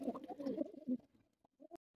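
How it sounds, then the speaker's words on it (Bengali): Several pigeons, including young birds and one khaki male among mostly females, kept in a loft, give soft low coos in a few short bursts, close and fairly quiet, with brief pauses between calls. "এখানে 4 পিস কবুতর আছে"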